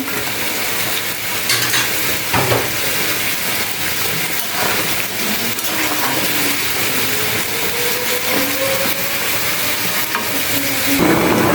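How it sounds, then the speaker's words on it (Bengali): Fried fish pieces go into a simmering potato-and-cauliflower curry, giving a steady, close sizzle with scraping stirs and occasional clinks throughout, no voices. "এই যে দেখো ভাজা মাছগুলো দিয়ে দিলাম"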